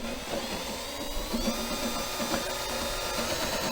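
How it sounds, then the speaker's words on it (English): A power drill whirs steadily at close range, its motor pitch wavering slightly as it bores a hole in an old Chevrolet Blazer, with no voices. "So we're gonna drill this here hole."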